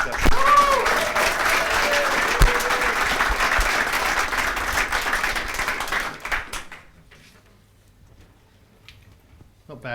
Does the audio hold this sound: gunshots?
no